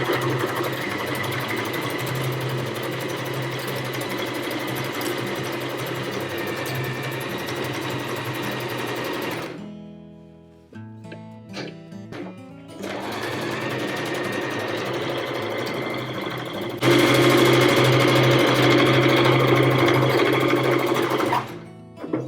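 Sewing machine running a straight top stitch back and forth to reinforce a patch over a torn hole in distressed jeans, a steady close mechanical whir in long runs, broken by a short pause with a few clicks before stitching resumes.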